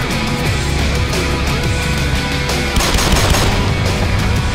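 Rapid enemy gunfire rattles in the Black Mesa game, dense bursts of automatic shots running continuously and loudly, layered over a background of game sound.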